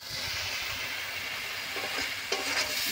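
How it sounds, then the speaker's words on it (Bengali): Spice paste (masala) for an egg and soybean curry sizzles steadily as it is sautéed in a pan, with a few brief scraping stirs near the end. "মশলাটা বেশ ভালো করে কষাবো, মশলাটা যাতে পুড়ে না যায় তার জন্য একটুখানি সামান্য জল দিয়ে দেব"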